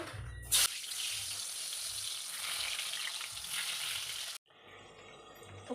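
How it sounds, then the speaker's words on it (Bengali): Potatoes frying in oil give a constant sizzling hiss after a brief clatter, broken by a short pause before the sizzle resumes more quietly. "আলুগুলো ভাজতে দিয়ে দেব"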